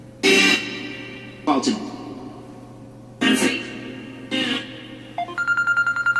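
A phone rings with a rapid, repeating electronic tone that starts near the end, after several loud, bright bursts of sound.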